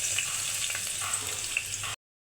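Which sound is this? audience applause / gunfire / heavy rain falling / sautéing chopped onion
sautéing chopped onion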